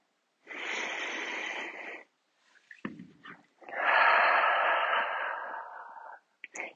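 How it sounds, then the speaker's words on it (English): Two long, loud deep breaths taken in a yoga pose during a beginner-intermediate vinyasa flow, the first an inhale of about a second and a half, then a few faint rustles before a longer, fuller exhale. "We'll take 2 big breaths here."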